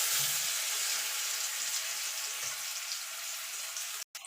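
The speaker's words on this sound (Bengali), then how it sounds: "আলুগুলো ভেজে নেব" Potatoes frying in hot oil left over from fried lentil dumplings, producing a close, even hiss of sizzling that holds steady before cutting off abruptly near the end.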